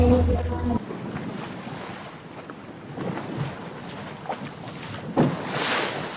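A slow steamboat on the winding Pasig River in the Philippines, heard as a steady broad wash of engine and water noise with wind buffeting the microphone, a brief tonal sound at the start and a few soft thumps.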